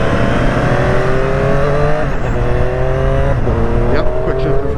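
A 2021 Triumph Street Triple RS motorcycle revs loud and close through repeated upshifts with its quick shifter, each gear change a brief cut before the engine pitch climbs again, with wind rush throughout.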